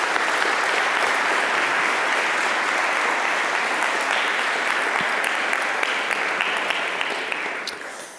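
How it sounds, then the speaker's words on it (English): An audience gives sustained applause for a speaker being welcomed to the stage at a talk on shareholder capitalism and democratic economy, steady dense clapping that holds loud for about seven seconds before starting to fade. "Please give her a warm round of applause."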